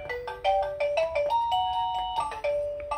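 Costar wireless doorbell receiver playing a bright electronic chime ringtone, a sequence of clear melodic tones stepping up and down, loud and close with no talking.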